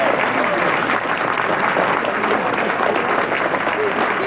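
A golf gallery applauds at the 2012 Open Championship: steady, dense clapping from a sizeable crowd outdoors, even in level throughout.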